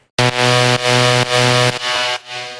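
A looped synth note, with altered effects, plays as a bright harmonic drone that retriggers in a regular pulse about every half second, thinning and fading toward the end; no voices.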